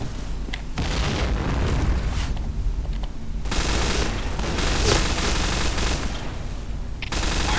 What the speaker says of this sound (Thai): โอ้โหระเบิด